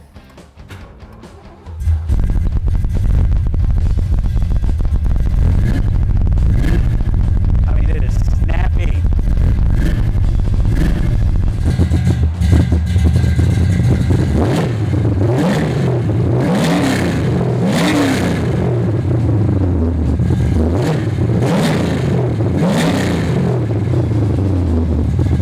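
A 1967 Ford Mustang Pro Touring engine cranks and catches after about two seconds, then idles with a loud, steady rumble and rises into several throaty revs.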